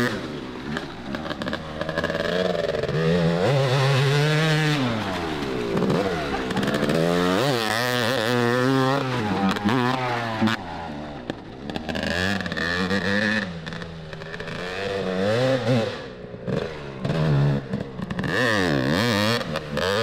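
A 1992 Kawasaki 250 KX-E two-stroke enduro motorcycle engine revs loudly and continuously, rising and falling in pitch as the throttle is worked, close and dominant throughout.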